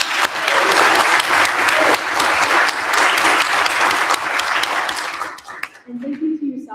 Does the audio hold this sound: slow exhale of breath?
no